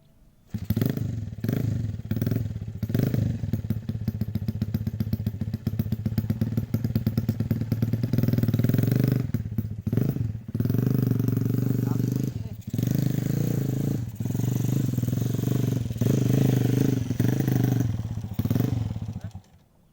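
A motorcycle engine runs loudly and roughly, its revving rising and falling with clattering bursts and brief drops, while voices talk over it.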